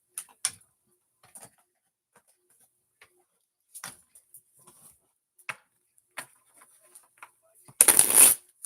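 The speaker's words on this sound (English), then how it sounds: "So it says draw 2 more tarot cards." Tarot cards shuffled and drawn by hand, heard as scattered soft ticks and flicks with long quiet gaps, ending in one loud close burst of riffling.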